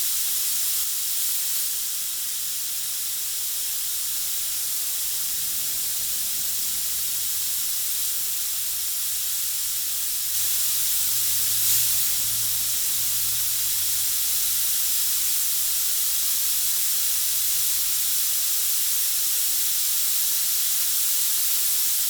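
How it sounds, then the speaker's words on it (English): An airbrush spraying paint in a micro airbrushing session, a steady, close, airy hiss that runs almost unbroken, with faint low hum beneath and no talk. "Remember, this airbrush is extremely responsive, so it's going to do exactly what you tell it to do."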